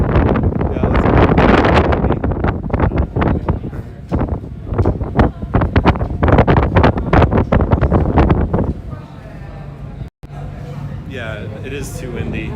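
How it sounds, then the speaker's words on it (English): Heavy wind buffets an outdoor microphone in Amsterdam, rumbling and gusting continuously for most of the stretch before easing off, with people talking underneath. "it is too windy"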